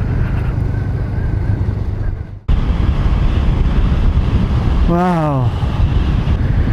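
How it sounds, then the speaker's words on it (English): Wind buffets the microphone on a motorcycle tour in Ladakh at Turtuk, a steady loud broadband rush throughout, briefly cut off midway, with a short exclamation heard over it. "it's pretty windy over here. I'm sure you can hear the wind noise"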